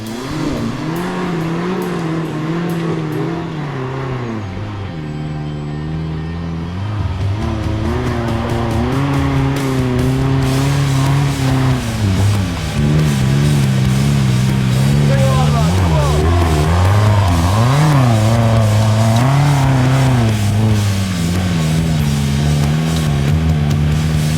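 A loud car engine revs continuously off-road in North Wales, climbing and dropping in pitch as it strains, with tire noise and rumbling throughout and no pauses.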